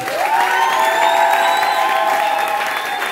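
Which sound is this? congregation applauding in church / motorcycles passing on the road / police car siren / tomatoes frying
congregation applauding in church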